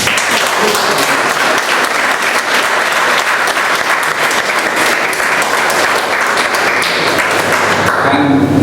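Loud, dense applause from a Toastmasters meeting audience, sustained clapping from many hands that stays even and close throughout without letting up.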